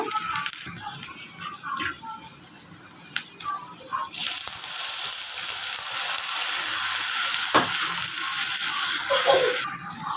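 Water poured into a spice paste frying in oil for a poa fish bhuna sets off a loud, sustained hiss and bubbling sizzle that swells and holds after some quieter stirring and clinking.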